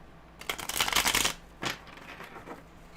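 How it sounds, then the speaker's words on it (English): Tarot cards are shuffled close up, with a dense riffling burst followed by a shorter flutter and soft card taps, against a quiet room. "So Scorpio, let's shuffle a little bit more."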